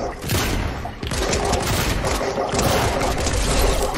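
Dense, continuous gunfire from a Fortnite match crackles in rapid bursts for the whole stretch, loud and close, with booming impacts layered over the volleys.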